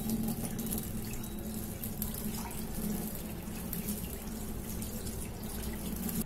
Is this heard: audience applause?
no